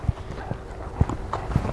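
A big, strong four-year-old horse walks on a muddy ground, its hooves clopping close and distinct in a slow, even rhythm of about four beats.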